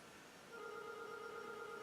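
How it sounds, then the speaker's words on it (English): A telephone rings at a model-kit workbench, a steady electronic bell tone starting partway in and continuing to the end, moderately loud in a quiet room with no talk. "bloody phone."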